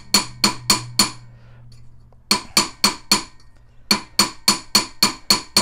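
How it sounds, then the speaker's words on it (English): Sharp, ringing hammer blows on a metal ring, stretching it, come in quick bursts of four, then a pause, then longer runs of steady strikes, close and loud. "if you want to stretch it, you're going to put it on the wider end and hammer"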